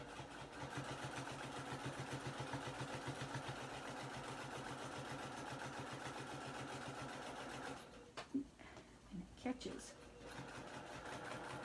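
A sewing machine runs in steady rapid stitching bursts while attaching binding to a quilt, sewn by eye without a stitch-in-the-ditch foot, then stops and starts in short spurts as a voice speaks over it.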